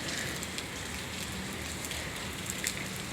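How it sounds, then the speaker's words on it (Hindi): Light rain drizzles steadily over a lush green home garden, a soft continuous patter close by with no one speaking. "मैं बारिश में खड़ी होकर वीडियो बना रही हूँ"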